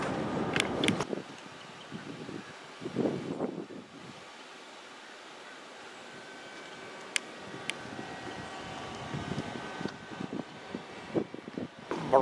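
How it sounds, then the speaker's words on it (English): Wind gusts buffet a deserted seaside boardwalk in Atlantic City on a cold November day, a steady rushing noise with microphone buffeting and faint surf, swelling and easing over several seconds. "Breezy out here"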